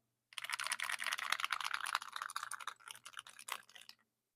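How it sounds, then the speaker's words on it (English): Rapid, continuous keystrokes on an Aula F99 Pro creamy mechanical keyboard, typed close up for about three and a half seconds with dense, even clacks and no talking. "It's time for the creamy keyboard test."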